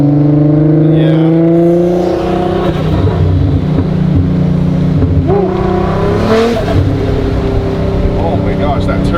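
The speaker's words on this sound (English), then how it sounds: "Oh my gosh, that turbo. That thing sounds so insane." A Golf R32 with a big turbo, making over 450 wheel horsepower, accelerates hard through snow, its loud engine climbing and shifting in rising harmonic sweeps with turbo whoosh, while people talk excitedly over it throughout.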